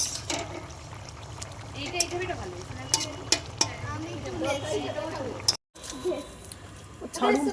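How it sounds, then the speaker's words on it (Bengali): Spices sizzle in hot oil as a tempering for mixed vegetable dal, with steady frying hiss, occasional clinks and stirring near the pan, and background chatter from people gathered on a rooftop. "এখন মিক্স সবজি ডাল হবে, সেই জন্য ফোড়ন দেওয়া হচ্ছে।"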